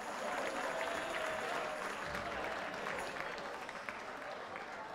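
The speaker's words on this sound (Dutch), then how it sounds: "Geef ze een daverend applaus" A crowd at a Limburgish dialect song contest gives loud, sustained applause, a thick, steady roar of clapping that holds for several seconds and fades slightly toward the end.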